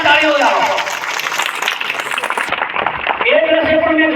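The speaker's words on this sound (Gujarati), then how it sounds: "પેલા કોઈ જોરદાર તાળીઓ લાવો." An audience at a Bhesaniya family gathering breaks into brief, dense clapping, with a voice speaking before and after it.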